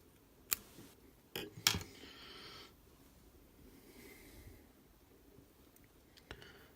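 Scissors snip foam fly-tying material for a sand flea imitation, giving a few quiet, sharp close-up clicks spread over several seconds in a hushed room.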